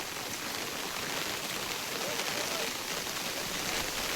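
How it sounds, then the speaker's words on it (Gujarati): Heavy rain pours down on Girnar hill in a dense, unbroken hiss that holds steady the whole time, with no breaks or lulls, people sheltering under tarpaulin. "વરસાદ પણ સુપર આવે છે એવું નથી કે ધીમો ધીમો આવે છે"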